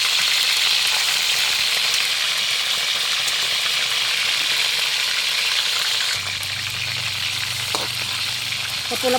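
Marinated chicken sautéing in a pan gives a loud, continuous close sizzle that holds steady throughout, joined by a low humming drone in the final few seconds, with no talking.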